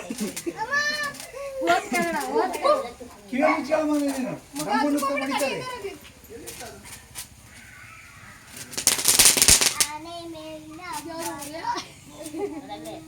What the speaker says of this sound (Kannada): ಇನ್ನು ಎಲ್ಲ ಪಟಾಕಿ ಹೊಡಿತಾ ಇದ್ವಿ ಸೇರಿಕೊಂಡು